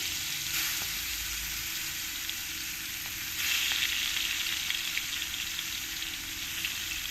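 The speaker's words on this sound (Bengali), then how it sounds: "এবার আমি এই মাছগুলো এক এক করে দিয়ে দেবো আর মাছটা দেওয়ার সময় খুবই সাবধানে দিতে হবে নইলে তেলটা ছিটকে গায়ে লাগতে পারে" Pieces of rohu fish belly frying in hot oil give a steady, close sizzle with no voices, swelling louder partway through as more fish hits the pan.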